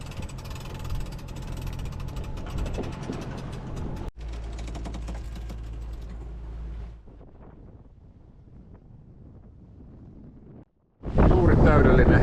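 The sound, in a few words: wind while sailing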